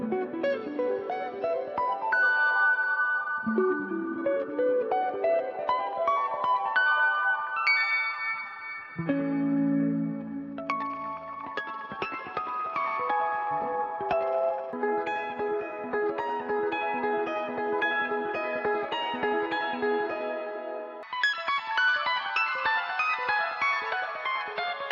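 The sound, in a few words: guitar with weird wild delays and reverb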